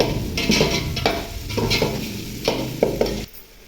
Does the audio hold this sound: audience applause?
no